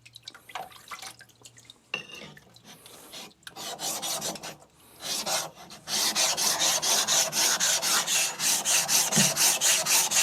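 An Aogami 2 bunka knife is thinned on a 140 grit diamond plate, starting with scattered scrapes and then settling into loud, rhythmic back-and-forth grinding strokes close by.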